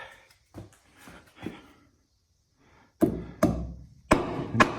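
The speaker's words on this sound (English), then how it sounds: "you want to hit the flange with a hammer to break it loose" Several sharp hammer strikes on a drive shaft flange of a 2007 Ford E150 van, a few lighter taps first, then louder close blows in quick succession near the end.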